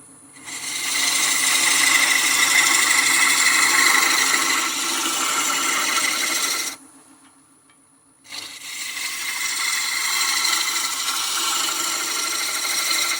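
A wood lathe turning a Christmas bell blank round, the gouge scraping in a loud, steady rasping hiss for several seconds, then a short quiet pause before the cutting resumes just as steadily.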